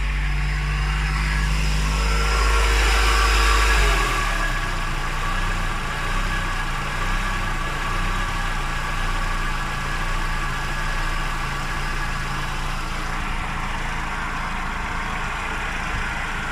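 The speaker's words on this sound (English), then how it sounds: "Rev's a bit too high actually." Mercedes W124 E220 coupe engine idling at slightly high revs mid-restoration, a steady, continuous mid-frequency hum with a rougher low rumble settling in after the first few seconds, no voices.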